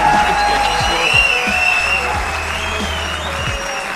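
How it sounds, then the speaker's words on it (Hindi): Audience applauding at a motivational speech, a dense, loud, sustained wash of clapping with crowd voices mixed in. "जोरदार तालियां होनी चाहिए यार।"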